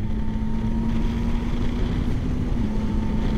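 A Yamaha Tracer 9 GT motorcycle engine drones steadily under heavy wind rush while riding, with one brief shift in pitch as a gear changes without the clutch.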